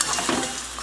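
Noodles being stirred and mixed with leftover sauce in a pan, a steady close scraping and sizzling-stir texture with a brief louder swell partway through, no voices.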